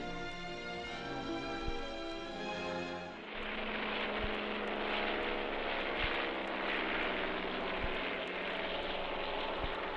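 A fixed-wing airplane takes off with a steady, loud engine roar and broadband rush that fills the scene after a sustained musical passage of Asturias, patria querida, continuing evenly to the end.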